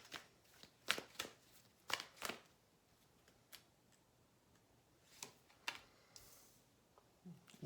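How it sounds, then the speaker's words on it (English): Tarot cards are shuffled and laid down on a table during a reading, with quiet irregular flicks and snaps scattered across a mostly hushed background. "I'm just going to lay some more cards so that we're clear."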